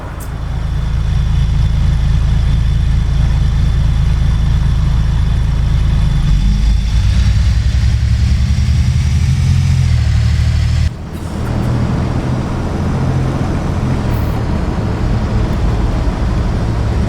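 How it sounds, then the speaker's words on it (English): A steady, loud bus engine in the video game The Bus drones throughout, with a low rumble that shifts in pitch as it accelerates and a brief dip partway through. "The ambient sounds are good, the sound of the bus are good."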